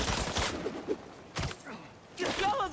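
Gunfire from armed paparazzi in the video game Spider-Man 2, a few sharp bursts of shots spaced across the moment amid game sound, with some voice in the background.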